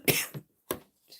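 A person with a cold gives two or three short, dry coughs in quick succession, close and alone, with a brief throat-clearing rasp between them.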